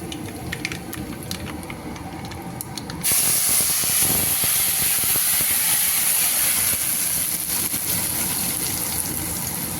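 Curry leaves, mustard seeds and dried chillies hit hot oil in a pan while tomato bajji is being made, a quiet crackle suddenly bursting into a loud, steady sizzling hiss that carries on to the end.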